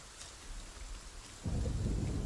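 Rain pours down with a low rumble of thunder in The Pillars of the Earth video game, the downpour swelling suddenly louder and heavier partway through.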